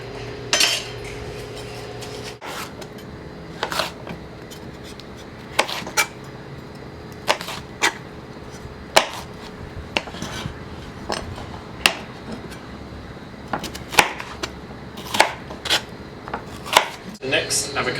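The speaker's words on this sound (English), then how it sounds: "dice it into bite-sized pieces to add to the salad" A knife dices capsicum on a cutting board, sharp irregular taps in quick bursts, close by, with faint kitchen clatter in between.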